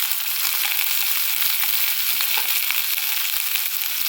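Vegetables and onion frying in a hot pan for cauliflower fried rice, giving a loud, steady, even sizzle from close by with faint stirring and no voices.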